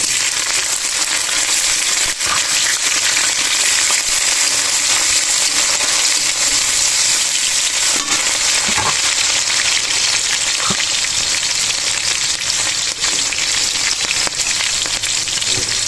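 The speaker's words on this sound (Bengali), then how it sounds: "তো তেলের মধ্যে এবার দিয়ে দেবো কুচানো রসুন, দিয়ে দেবো চেরা কাঁচা লঙ্কা" Chopped garlic and slit green chillies frying in a generous amount of oil, a loud, dense, unbroken sizzle close by with occasional pops, with no speech.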